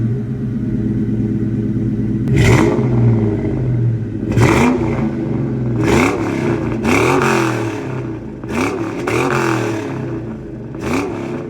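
A New Edge Mustang GT V8 starts and idles with a deep, lumpy exhaust rumble, revved in sharp bursts several times, loud and close.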